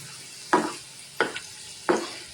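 Masala frying in a pan on the stove, quiet sizzling broken by three sharp scraping stirs about two-thirds of a second apart, close and clear, no voice.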